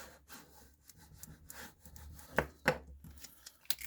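A piece of a Sharps cartridge box is rubbed down by hand, giving faint, close scraping strokes with a couple of sharper scuffs near the end and no talk.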